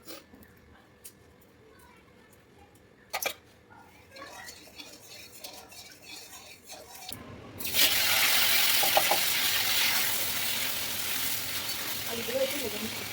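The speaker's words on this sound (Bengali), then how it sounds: "আলুগুলো একটু ভেজে নিচ্ছি।" Potatoes frying in hot oil give a loud, steady sizzle that starts suddenly about halfway through, after quieter kitchen clatter and faint talk.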